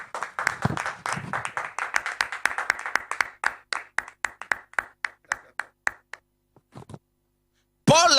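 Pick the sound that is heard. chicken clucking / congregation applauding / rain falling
congregation applauding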